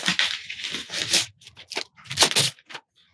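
Plastic wrap being torn and pulled off a 140 watt Apple MacBook Pro power adapter, close crinkly tearing in several bursts over about three seconds with no talking.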